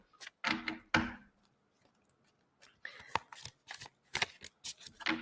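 Playing cards shuffled close by in several quick riffling bursts separated by short pauses, crisp and fairly loud.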